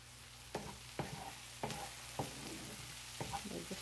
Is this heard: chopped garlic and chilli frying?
yes